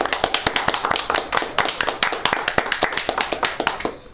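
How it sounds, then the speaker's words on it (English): An audience at a speedrunning marathon claps in a quick, even patter of sharp hand claps, close and fairly loud, going on without a break until it dies away at the end. "Please clap."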